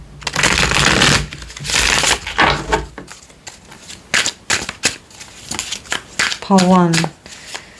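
Tarot cards are shuffled in quick rustling bursts early on, then come a few sharper card snaps and taps, all mixed with a person talking.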